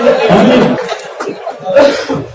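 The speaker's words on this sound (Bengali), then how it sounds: "আমার অনেক কাশি, বুঝছেন?" A man coughs in short bursts during a speech, loud and close, with his voice continuing around the coughs.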